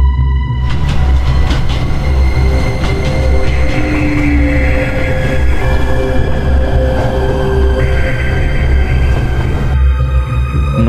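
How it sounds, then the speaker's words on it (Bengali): An approaching train rumbles steadily under faint clattering and high metallic tones, a continuous loud low drone that holds for several seconds and then cuts off near the end. "ঠিক তখনই একটি ট্রেনের আওয়াজ ভেসে আসে নবীনের কানে।"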